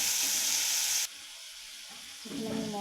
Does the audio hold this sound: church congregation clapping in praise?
no